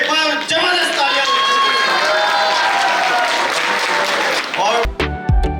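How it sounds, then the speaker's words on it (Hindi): Loud, sustained clapping from a crowd at a Tiens business meeting in Solan, Himachal Pradesh, filling about five seconds before breaking off into a few scattered claps and thumps. "मैं चाहूंगा एक बार जोरदार क्लैपिंग"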